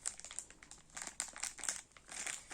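A plastic bag of marmalade sweets is opened, giving a steady run of close, fairly quiet crinkling and rustling with short bursts, and no talking.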